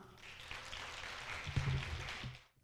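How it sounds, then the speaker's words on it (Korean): Applause for a speaker at a Korean XR and metaverse network event, a steady moderate patter of clapping from an audience that swells slightly, then cuts off abruptly near the end. "많은 박수 부탁드립니다."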